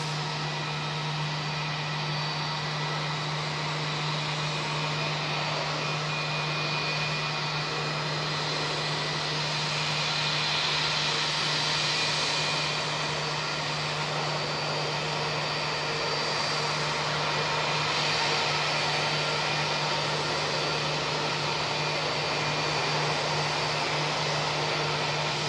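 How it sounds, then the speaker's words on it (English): Aircraft brake cooling fans running on a parked airliner at Auckland Airport in fog, a continuous loud whirring drone with a steady low hum, unchanging throughout. "There goes the brake fans."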